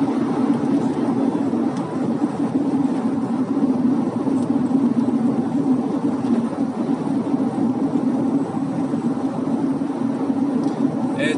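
A VGT-equipped Toyota RAV4 Millennium accelerating at half throttle, its steady engine drone continuous and fairly loud throughout, with road and cabin noise and no clear peaks.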